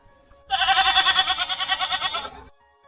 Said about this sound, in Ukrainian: Так, це коза, це травоїдна тварина.